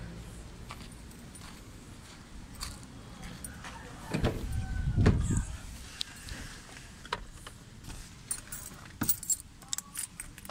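Car keys for a Mitsubishi Lancer jingle and clink, with a louder rattling burst midway and scattered metallic taps after, alongside faint background sounds.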